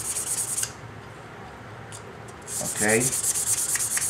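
220-grit sandpaper rubs a Glock 20 SF barrel, making a steady close scraping hiss that pauses briefly before resuming in quick strokes, with a short spoken word in between.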